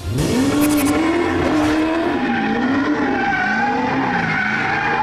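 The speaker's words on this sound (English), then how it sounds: "Although the Sony's bass was somewhat forced, it was very easy to place the sounds of the car" Car sound effects played back through a Sony BDV-E370 home-cinema surround system: loud screeching tyre squeals and a revving engine whose pitch sweeps up and wavers, sustained for several seconds without speech.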